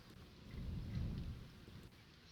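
Thunder from a severe thunderstorm over New York Harbor rumbles low and faint in the distance, swelling briefly and then fading under a steady hiss of wind or rain, with no voices.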